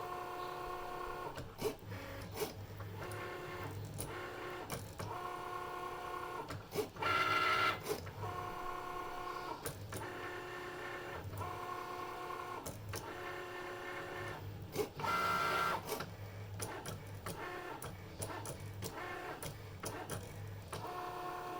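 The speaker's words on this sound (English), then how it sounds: "this is just a regular Cricut blade that's doing this with. I set it to extra pressure" A Cricut cutting machine set to extra pressure drives its regular blade through vinyl, giving a steady mechanical whir with harmonic motor tones and brief louder bursts near 7 and 15 seconds, close and continuous.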